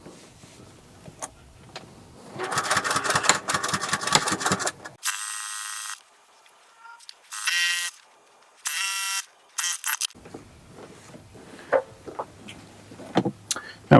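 A sewing machine stitches a standard quarter-inch seam with a short back stitch at the start, a polycotton quilt-as-you-go bag project; several bursts of rapid whirring stitching alternate with pauses and light handling clicks, close by with no talk.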